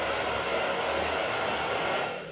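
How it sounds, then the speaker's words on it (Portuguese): A hair dryer blows off excess paint while a vintage dresser is refinished with a liquid marble effect. Its steady, close airflow roar holds throughout, then eases slightly near the end. "Eu vou tirar o excesso com o secador."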